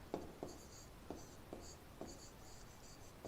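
Pen or chalk writing by hand while working a physics motion problem on distance, a few soft taps and scratchy strokes spaced out under quiet room noise.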